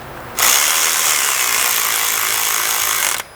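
A power tool whirs loudly and steadily for about three seconds as it drives a bolt into an aluminum engine block during a coolant hose repair, starting and stopping abruptly.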